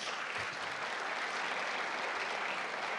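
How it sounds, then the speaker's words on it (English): An audience at a college convocation breaks into sustained applause, many hands clapping in a dense, even wash heard from within the hall, with no voices standing out. "Let's give him another round of applause"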